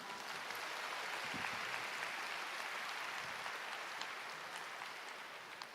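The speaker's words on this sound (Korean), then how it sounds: "서울대학교 교수합창단께 다시 한번 큰 박수 부탁드립니다" A large audience claps steadily at a Seoul National University graduation ceremony after a faculty choir's performance, a faint, even wash of applause lasting throughout and tapering slightly at the end.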